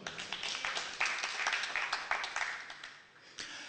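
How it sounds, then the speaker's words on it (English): An audience applauds at a stage show, with a sustained patter of many hands clapping at a moderate distance that thins out toward the end. "Please give yourselves a round of applause."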